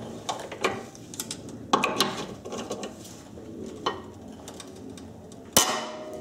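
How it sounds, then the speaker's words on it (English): A breaker bar works loose car sway bar bushing fasteners with hand tools, giving sharp metallic clicks and knocks at irregular intervals, several distinct snaps and one loud crack near the end, close by with no talk. "I'm going to get a breaker bar. And this is what a breaker bar looks like. In this case, I have 19 inches of leverage to really crank these fasteners off."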